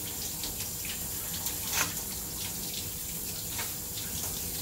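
Running tap water sprays steadily throughout while an elderly dog is rinsed during a bath, a continuous even hiss with slight splashing variations and no talking.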